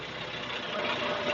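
A TYM T574 tractor's diesel engine running steadily while working the front end loader, a continuous dense rumble with a faint whine, close and even, with no voices.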